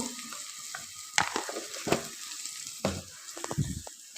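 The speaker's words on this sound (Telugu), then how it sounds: "వేసి కలుపుకోవాలి." Egg rice being stirred in a hot pan, with a spoon scraping and turning the grains over a steady sizzle in uneven, close strokes, and no voices.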